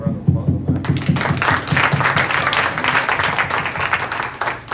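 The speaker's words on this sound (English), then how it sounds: "So I don't deserve that applause." Dense audience applause fills a town hall, steady and sustained throughout with a touch of crowd murmur beneath.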